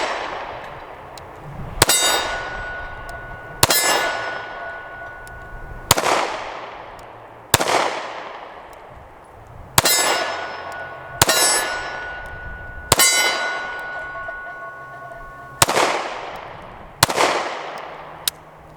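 A SCCY CPX2 9mm pistol fired at a steel plate: about nine sharp shots, each followed by a bright metallic clang that rings and fades, spaced a second or two apart with no talking.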